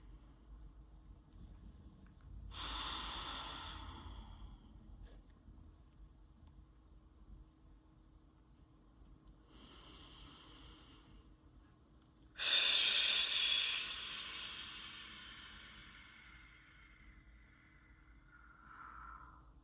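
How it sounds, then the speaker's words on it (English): A person breathes slowly in and out during a stretching exercise with a finger at the ear. A few soft, close breaths are separated by pauses, with one louder, longer exhale in the middle. "and breathe in and out."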